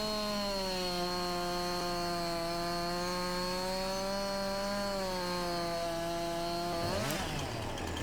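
An old vintage chainsaw drones steadily at a nearby high idle, then revs briefly and cuts into wood near the end with a rough burst, no talk.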